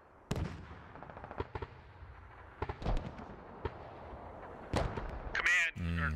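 Mortars and gunfire crack in a Squad military match, with several sharp, distant-sounding blasts scattered irregularly over a quiet background, and radio voices talking near the end.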